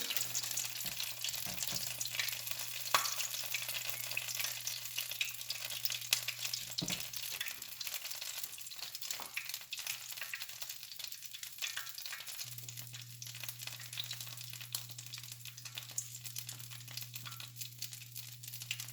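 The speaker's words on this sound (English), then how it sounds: "just take it and drop it in your oil, which is I have heating to a medium-high heat" A taco dropped into hot oil heated to medium-high fries with a soft, steady crackling sizzle, faint and continuous, alongside a low constant hum.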